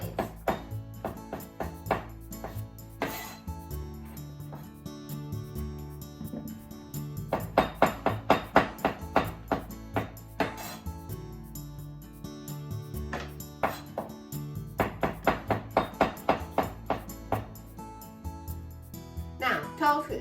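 A knife cuts thin slices of shiitake mushroom on a cutting board, giving a string of quick, crisp knocks in bursts of fast rhythmic chopping, close up and fairly loud, with short pauses between runs.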